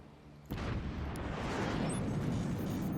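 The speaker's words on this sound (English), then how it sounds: "But it is time to open fire." Artillery opening fire in the strategy game Forts, a sudden heavy boom followed by sustained rumbling blasts and crackling explosions, loud and continuous.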